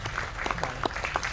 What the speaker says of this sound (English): Also, a round of applause for everybody that helped me,